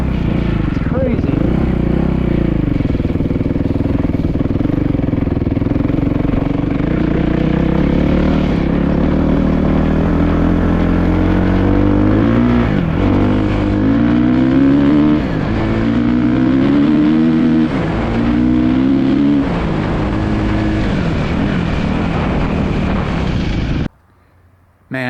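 A 450cc dirt bike engine revs loudly and continuously while riding, with rising and falling pitch through the gears. The clip cuts off abruptly near the end.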